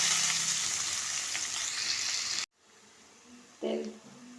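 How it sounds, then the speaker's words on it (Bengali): Onions frying in oil with cinnamon, cloves and small cardamom, a strong steady hiss and sizzle that cuts off abruptly midway, followed by quieter background and a brief voice. "পেঁয়াজটা ভাজা হচ্ছে"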